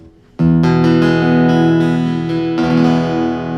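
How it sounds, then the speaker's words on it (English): A strummed Martin acoustic guitar chord, heard through a pickup, rings out clearly and close, with a second strum near the end, its tone bright and slightly thin, no voices. "This is the sound of the guitar through a pickup."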